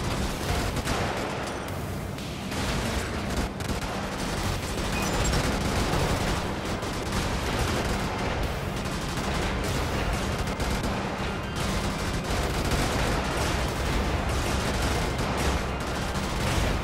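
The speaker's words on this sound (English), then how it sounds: "Oh wait, no, it's just a heavy cannon." A heavy cannon fires repeatedly in the Brigador game, a dense run of loud booming blasts and impacts in quick succession over continuous rumbling, with no talk.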